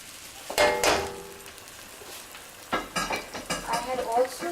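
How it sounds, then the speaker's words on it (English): Shrimp malai curry fries and sizzles on high flame while a utensil stirs and scrapes the pan in a short burst, then louder bursts of frying and stirring, close and without talk. "stir everything on high flame."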